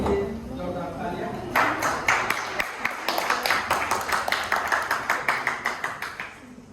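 Audience at a school debate breaking into applause for a student, rhythmic clapping that starts after a moment of murmur and keeps going steadily, moderately distant.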